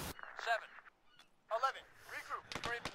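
Gunfire in the military shooter ArmA 3, with a sharp shot at the start and a quick cluster of cracks near the end, heard under radio-style voices talking.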